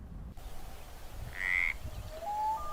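Frogs croaking nearby against a low background hum, a clear ringing call standing out in the middle and fainter chirps following near the end, with no voices.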